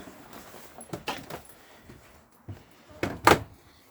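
A caravan door, on a 2013 Elddis Avante 576 touring caravan, clicks and rattles open on entering, with a few short latch and handle knocks followed by a louder clunk near the end.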